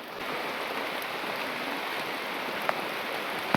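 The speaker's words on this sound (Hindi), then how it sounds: "आवाज़ देख रहे हो बारिश की खतरनाक" Heavy rain pours steadily onto a tent at a forest campsite in Uttarakhand, a dense, close hiss of drops drumming on the fabric with a couple of sharper taps near the end.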